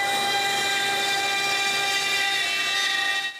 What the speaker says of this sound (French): Lui, je vais le couper avec ma CNC.